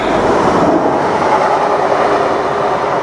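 A TransPennine train passes through a station on the line between Chapel-en-le-Frith and Chinley, giving a loud, steady rumble of wheels and engine that fills the whole clip with no talk.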